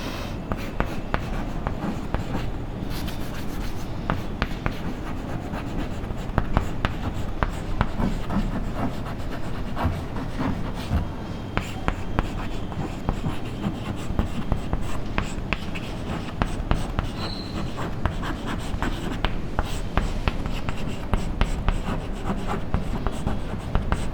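A pen writing by hand on paper, a steady run of close, dense scratchy strokes continuing alone for a long stretch.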